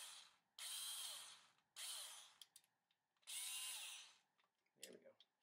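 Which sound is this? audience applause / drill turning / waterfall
drill turning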